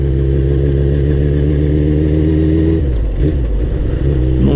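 A Suzuki SRAD 1000 motorcycle engine revs loud and close, a strong steady drone that rises and shifts partway through as the throttle changes.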